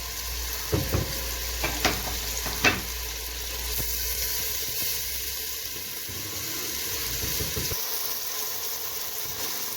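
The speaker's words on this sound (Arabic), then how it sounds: "هنزل بالثوم المفروم" Minced garlic frying in butter and oil with softened onions for shrimp soup, a steady close sizzle with a few sharp utensil taps near the start, then continuous frying alone.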